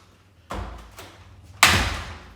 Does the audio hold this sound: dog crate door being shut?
yes